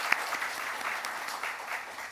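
A church congregation claps together to welcome visitors during a Sunday worship service, a short burst of steady, dense applause filling the room.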